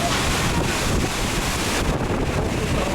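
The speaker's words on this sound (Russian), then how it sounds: "дождь, гроза" Thunderstorm with strong wind and heavy rain, a dense continuous roar with wind buffeting the microphone.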